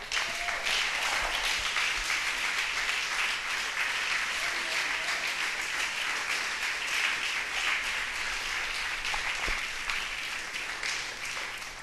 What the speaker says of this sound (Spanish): Todo el que lo quiera, brinde un aplauso al Señor